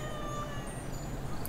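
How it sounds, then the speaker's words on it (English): A cat in the video game Assassin's Creed Unity gives a faint, drawn-out meow over a low, steady background hum, brief and somewhat distant. "Yeah, that's a cat. I'm pretty sure that's a cat."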